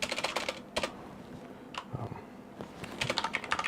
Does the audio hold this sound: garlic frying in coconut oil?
no